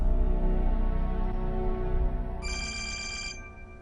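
A telephone rings with a steady electronic bell tone that holds for a few seconds before a brighter tone briefly joins it, close and clear with no voices.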